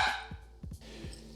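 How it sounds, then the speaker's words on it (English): A dog barks at a squirrel outdoors, a few sharp barks in quick succession, fairly close and loud. "she's barking at a squirrel outside"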